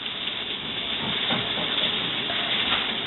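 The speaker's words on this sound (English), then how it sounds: "Oh yeah, you can hear that oil sizzling." Oil sizzles in a pan while spaghetti sauce is being cooked at home, a steady close hiss that runs continuously and evenly, with no talking.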